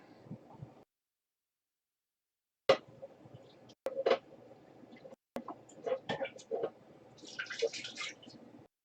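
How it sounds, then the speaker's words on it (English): Wheat berries rinsed under running water in a home kitchen, with short bursts of splashing and trickling separated by pauses, some clatter of handling, and faint background noise. "I think I'm gonna use up the rest of these wheat berries, rinse them out, and then add them back"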